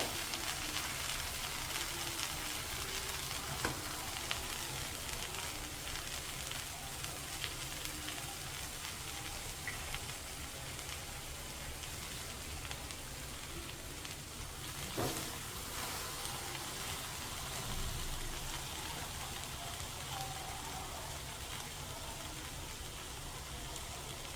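An egg and milk mixture fries in a pan for breakfast, giving a steady, close crackling sizzle that runs unbroken throughout, with a couple of faint clicks and no talking.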